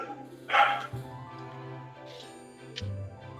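A single dog bark sounds at moderate distance over a low hum, followed by faint muffled noises.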